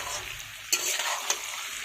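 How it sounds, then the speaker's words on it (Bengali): Onion and potato frying in a pan, a soft continuous sizzle with a couple of sharp utensil clicks against the pan, close and brief, no voices. "পেঁয়াজটা আলুটা লাল লাল একটু একটু হয়ে এসছে, আলুটা পুরোপুরি ভাজা হয়ে গেছিলো"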